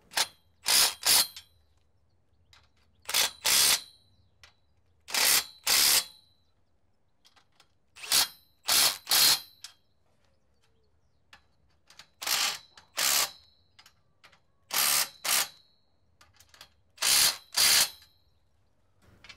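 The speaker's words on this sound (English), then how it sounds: "Once the sides of the aluminium base are in place, tighten the bolts" Bolts being tightened on aluminium polytunnel base rails, sharp metallic ratcheting clicks in repeated paired bursts separated by short pauses, close and clear with no talk.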